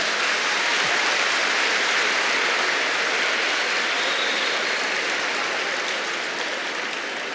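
An audience applauds at an opening lecture at a youth festival in Vitória, a dense, sustained wash of clapping from a large crowd that holds steady and fades slightly toward the end.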